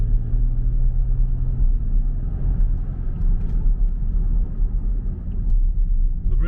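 A V6 turbo all-wheel-drive car drives along, heard from inside the cabin as a steady low engine and road rumble, fairly loud and continuous.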